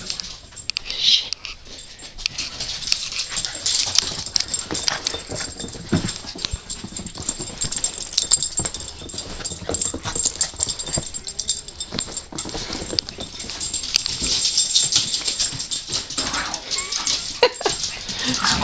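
Dogs whimpering, yipping and giving occasional barks around a house, with scuffling and movement noise throughout and a person talking at times.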